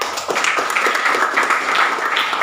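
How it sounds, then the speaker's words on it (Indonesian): Students in a classroom clap together, a short burst of fairly close, uneven hand claps lasting a couple of seconds. "Oke, tepuk tangan untuk siapa?"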